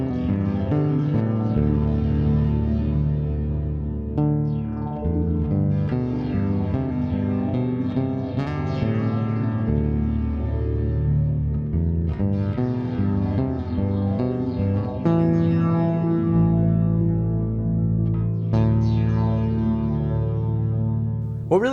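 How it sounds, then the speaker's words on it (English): Bass guitar played through a Boss TE-2 delay, reverb and modulation pedal, a sustained, loud line of shifting notes smeared with echoing, wobbling effect tails, continuous and alone. "Boss has made the TE2 an extremely interesting delay/reverb/modulation pedal"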